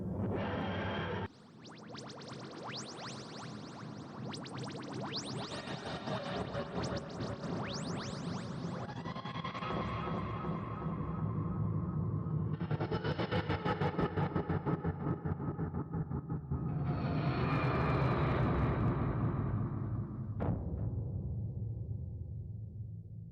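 A TARDIS makes a rough landing in a Doctor Who audio drama: a loud, continuous mechanical roar with rising, grinding, wheezing layers that swell in waves and persist for over twenty seconds, with no talking over it.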